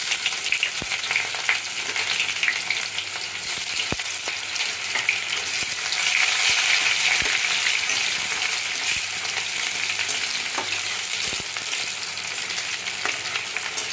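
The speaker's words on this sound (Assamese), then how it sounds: "পিঁয়াজখিনি অকণমান ভাজি ল'ম" Onions sizzle and crackle steadily in hot oil in a home kitchen pan, a continuous close frying hiss with occasional stirring clicks and no talking.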